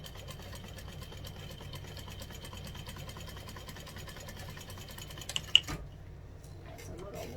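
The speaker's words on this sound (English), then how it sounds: "So take your time in your top stitching." A sewing machine top stitches a fold-over fabric clutch, making a quiet, rapid, steady needle patter that runs without a break, with a few soft handling clicks near the end.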